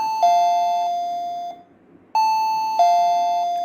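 Close, clear wireless doorbell chime rings twice, each a bright two-tone ding-dong that decays, separated by a short pause. No voices.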